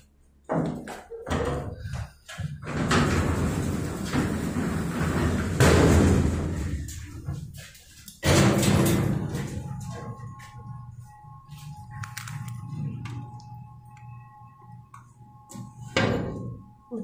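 Montgomery hydraulic freight elevator doors at a mall in Columbia being pulled shut, heard close as a run of heavy sliding rumbles ending in a loud slam and thuds, with a faint electrical hum afterward.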